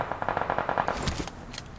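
Gunfire in the mobile battle-royale game PUBG Mobile: a rapid, evenly spaced automatic burst followed by a few heavier, scattered shots, moderately loud with no talking.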